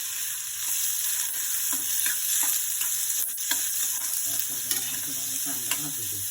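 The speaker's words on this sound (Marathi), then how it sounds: "कांदा भाजू दे." Onions sizzle and fry in a pan, a steady bright crackle with intermittent scraping stirs, close and continuous with no talk.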